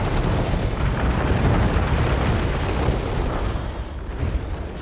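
Missile explosions in the video game War Robots Frontiers, a dense, loud barrage of booming blasts rumbling almost continuously and fading slightly toward the end, with no voices.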